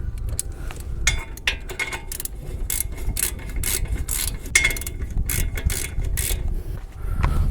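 Ratchet clicking rapidly as it snugs down the caliper bracket bolts on a Toyota Camry's front brake assembly, with quick repeated pawl clicks in uneven bursts, close up, alongside faint metallic handling.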